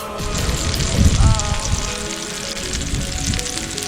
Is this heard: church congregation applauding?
no